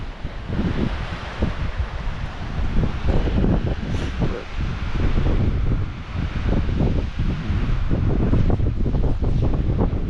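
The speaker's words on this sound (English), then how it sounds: "It's really windy." Strong, steady wind rushes across the microphone on a canyon hiking trail, a loud, unbroken roar with rising and falling gusts and no clear talking.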